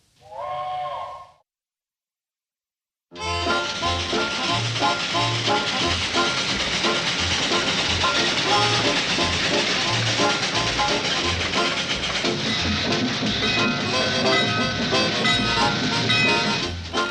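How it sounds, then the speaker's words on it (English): Train pulling into a rural junction station, a loud steady rumble of wheels and clattering cars after a brief sound and a pause of silence. "Girls, train's in."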